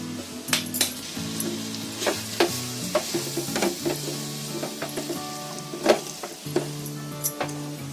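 A spoon scrapes and clinks in a pan while a mixture of ground oats, honey and cardamom is stirred over gentle heat, soft sizzling underneath and irregular close taps against the metal.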